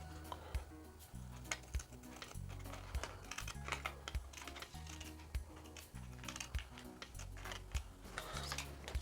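Scissors trim a paper dress pattern in a series of quiet, close, rhythmic snips with faint paper rustling, and no talk.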